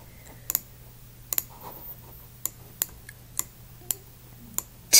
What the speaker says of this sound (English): I'm terrible at typing on computer.